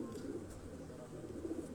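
Soft, low cooing from pigeons of a fancy breed, close and continuous over a quiet background.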